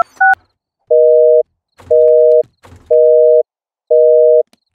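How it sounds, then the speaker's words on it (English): A telephone busy signal sounds as four evenly spaced, loud steady beeps after a brief initial tone, with faint handling noise between them and no speech. "His phone's engaged."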